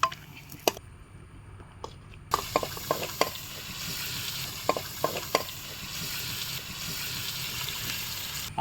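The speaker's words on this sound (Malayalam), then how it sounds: "മുക്കാൽ കിലോ കേരയാണ് നമ്മൾ മേടിച്ച് വറക്കണത്" Kera fish fries in hot oil for pickle, a steady sizzle that jumps up in intensity partway through, with occasional scraping and stirring clinks of a utensil in the pan.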